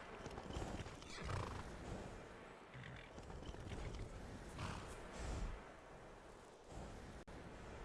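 In the video game Skyrim, a horse whinnies and its hooves clip-clop in a steady rhythm, close and fairly faint, with no talking.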